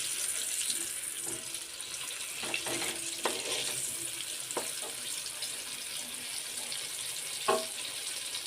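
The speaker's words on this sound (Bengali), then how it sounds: "আস্তে আস্তে আমি উল্টিয়ে পাল্টিয়ে ভেজে নেব।" Chicken popcorn frying in oil over medium-low heat, a soft steady hiss close by with a few scattered clinks and light knocks, no talking.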